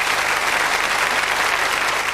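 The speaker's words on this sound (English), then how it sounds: "a special round of applause from the audience." A 1995 TV game show studio audience gives a round of applause, a brief, full and even burst of many hands clapping with no let-up.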